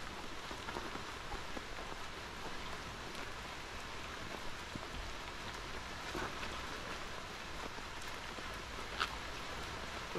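Rain falling in northern Luzon, Philippines, a steady soft patter and hiss of drops on surfaces throughout, fairly faint and even, with no voices.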